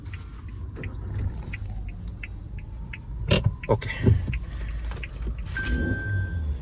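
A 2023 Maruti Suzuki Jimny Alpha is switched on from the driver's seat: a soft, regular ticking chime gives way to a brief burst of mechanical clicks and a muted startup rumble. The cabin stays quiet, and a voice speaks briefly.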